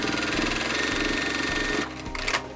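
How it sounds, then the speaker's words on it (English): Sewing machine running steadily up close, stitching the bottom seam of a fabric crossbody bag pocket with a fast rhythmic chatter, then slowing and stopping near the end. "Now we need to just sew the bottom of this pocket."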